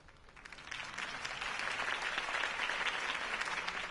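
Steady applause from a crowd in the video game Batman: The Telltale Series, clapping building quickly and holding at a dense, even level throughout.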